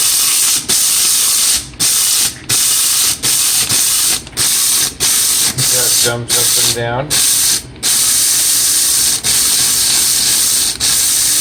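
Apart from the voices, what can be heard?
coffee grinder grinding beans with pulses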